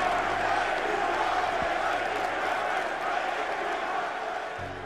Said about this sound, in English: Bray Wyatt stood tall alongside his brother as the crowd chanted